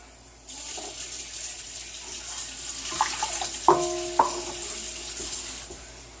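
Warm water runs from a kitchen tap for garlic knot dough: a steady, close stream that starts abruptly and continues throughout, with a few light clinks of a container being filled.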